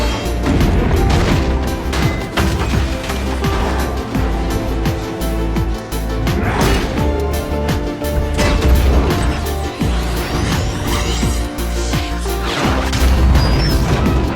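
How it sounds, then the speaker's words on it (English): Robot combat from the 2018 Bumblebee movie, with loud continuous crashing, metallic smashes and booming impacts layered over a dense, heavy score for the whole stretch. "Dropkick charged down from the tower and engaged Bumblebee in combat"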